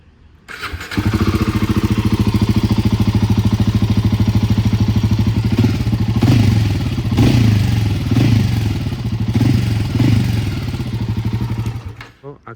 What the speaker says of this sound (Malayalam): നമുക്ക് ഇതിൻ്റെ എക്സോസ്റ്റ് നോട്ട് നോക്കാം